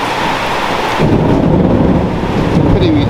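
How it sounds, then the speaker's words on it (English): Rolling thunder from a thunderstorm, loud and close, with a steady wash of rain beneath it and a deeper rumble swelling after the first second. "Pity we can't harvest the lightning."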